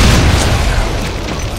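Shooting an imp in Project Brutality for Doom: a short, loud, dense booming blast with heavy low-end rumble, sustained and noisy with no clear gaps.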